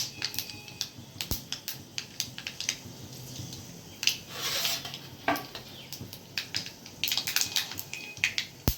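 Mustard seeds and dry fenugreek seeds pop and crackle in hot oil for a tempering, with sharp irregular snaps and spurts of sizzle close by, with no talking.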